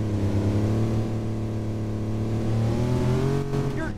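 Car engine in a taxi simulator video game, driven fast with a loud, steady droning roar that rises slightly in pitch toward the end.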